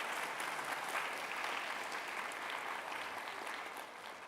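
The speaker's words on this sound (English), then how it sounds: "Let's give her another round of applause" Sustained audience applause at a Martin Luther King Jr. Day celebration event, a steady dense wash of clapping from a sizable crowd that holds even throughout and eases slightly toward the end.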